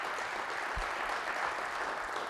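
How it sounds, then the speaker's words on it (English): Audience applause at Fort Worth's State of the City 2021 event, a steady, dense wash of clapping held at an even level throughout, with no talk over it. "So a round of applause for that."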